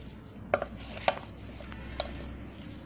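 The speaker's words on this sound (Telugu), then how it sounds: "ఇలా మామిడి ముక్కలు వేసిన తర్వాత కొంచెం అవి కూడా కలిసేలాగా కలపాలి" A spoon stirs mango pieces into Andhra aavakaya pickle mix with garlic paste, a soft wet shuffling broken by three sharp metallic clinks against the bowl.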